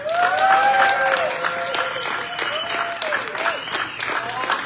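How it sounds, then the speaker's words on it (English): Audience applause on cue for an arriving guest at a live show, sustained clapping with a host's voice talking over it throughout. "Everybody, when I give you the cue, everybody applaud, okay?"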